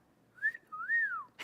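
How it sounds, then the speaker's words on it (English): A person whistles two short rising-and-falling notes, clear and close, followed by a brief burst of noise. "That was risky because I don't always whistle well."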